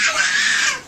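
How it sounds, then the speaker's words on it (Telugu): A brief, high-pitched shriek of a crying infant, loud and close, fading out at the end. "అంతగా అరుస్తున్నారు చూడండి వీళ్ళు"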